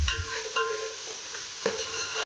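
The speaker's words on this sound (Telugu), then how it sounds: "జింజర్ గార్లిక్ పేస్ట్ పచ్చి వాసన పోయే వరకు మంచిగా కొంచెం దీన్ని సాటే చేసుకుందాం." Ginger garlic paste and onions being sautéed in a pan, a soft continuous sizzle with occasional scraping stirs of a spatula, close and fairly quiet with no talking.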